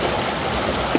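Steady broadband rush of a waterfall, heard at a natural falls with very clear, clean water, a continuous even roar with one brief splash near the end.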